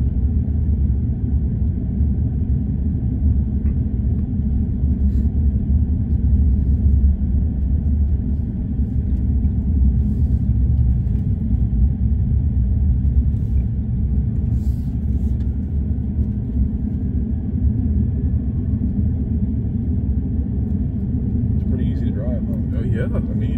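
A Tesla Cybertruck circles a road loop, heard from inside as a steady, close, low rumble of road and motion noise that holds at an even level throughout.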